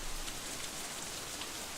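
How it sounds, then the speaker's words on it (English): Heavy rain pounds steadily in a visual-novel game scene, a dense, even wash of downpour noise with no breaks, alone and at moderate level. "the deafening pounding of the rain"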